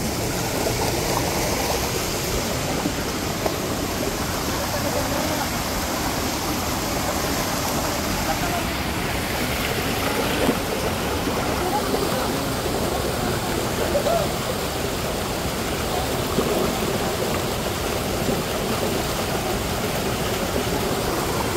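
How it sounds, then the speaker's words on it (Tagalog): The strong current of the river at Colasi Falls rushes in a dense, steady roar throughout, with people talking faintly beneath the water noise. "malakas nga ang agos"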